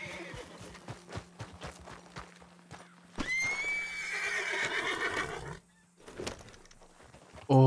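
A horse in the video game Red Dead Redemption 2 lets out a loud, drawn-out neigh lasting a couple of seconds, preceded by rhythmic hoof clip-clops and followed by a quieter snort.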